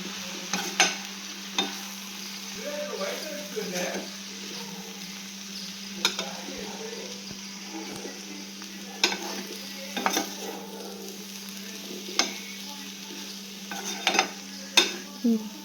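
Shredded cabbage and grated coconut sauté in a pan under a soft, steady sizzle, with intermittent sharp spoon scrapes and clinks against the metal. A faint constant hum sits underneath and nobody speaks.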